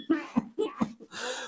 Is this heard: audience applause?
no